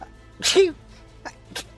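A single sharp human sneeze, close and loud, followed by a brief spoken word and a couple of faint soft sounds.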